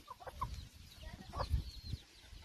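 Hens clucking in short, scattered bursts, fairly close, with soft rustling and shuffling in between.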